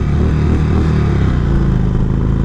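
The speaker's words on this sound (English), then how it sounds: "The bike sounds pretty good" Steady, loud engine note from a 2018 Indian Chief Vintage motorcycle, a continuous low rumble held close and alone without talk for the whole stretch.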